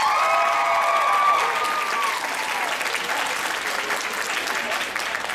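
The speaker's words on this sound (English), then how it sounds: "But let's give her a round of applause anyways." An audience claps at a cosplay masquerade at an anime convention, a full, sustained round of applause that stays loud and even before gradually thinning, with faint cheering mixed in.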